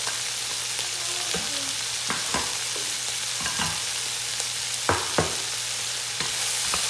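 Chopped leeks, both white and green parts, stirred into a pot of sausage and kale cream soup, with a steady soft sizzle broken by several sharp spoon scrapes and knocks against the pot, close by and with no talking.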